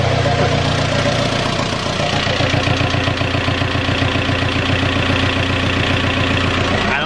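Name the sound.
mechanically injected turbo diesel Jetta engine running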